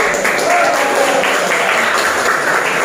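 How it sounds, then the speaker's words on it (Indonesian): Students in a classroom clap together in a steady, dense burst of applause that holds for a few seconds. "tepuk tangan dulu"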